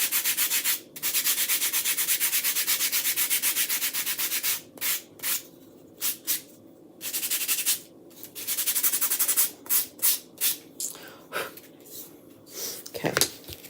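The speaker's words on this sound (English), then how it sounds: "So we're just going to lightly sand that." Hand sanding of a wooden Hanukkah menorah craft piece with sandpaper, a close, steady scratchy rubbing in long strokes broken by short pauses, then quicker choppy bursts toward the end, with no talking.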